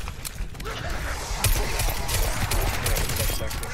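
Rapid bursts of magnum gunfire in a video game, dense and loud with mechanical clatter, heard continuously with talk mixed underneath.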